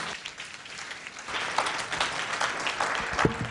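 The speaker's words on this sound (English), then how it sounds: "warm round of applause" Warm applause from a medical panel audience at an Erdheim-Chester Disease patient and family gathering, building from scattered claps to a fuller, steady round in a conference room.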